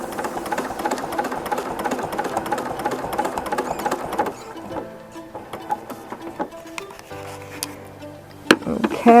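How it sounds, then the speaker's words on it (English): A sewing machine stitches steadily along the edge of a fabric petal, its mechanical whir running continuously for about four seconds, then breaking into a few short bursts of stitching among softer handling noises. "I'm going to just stitch right along the edge, all the way up to the line"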